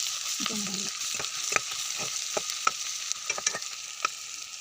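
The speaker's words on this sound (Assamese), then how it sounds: "মছলা দি অলপ এনেকৈ লৰাই দিম" Spices, with ginger and garlic paste, sizzle and fry in a pan for an Assamese clove pork curry, stirred with a steady hiss and scattered spoon scrapes and clicks, close and alone without talk.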